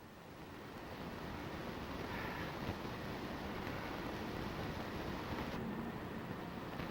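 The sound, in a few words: wind gust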